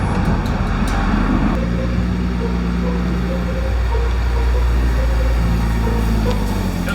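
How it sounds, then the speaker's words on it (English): A Jaguar F-Type rolls slowly through a farm yard behind a house, its low engine rumble close and steady with the pitch shifting as it moves, under a busy mix of other background noise. "we're just gonna go drive through the yard, through the back of the house here"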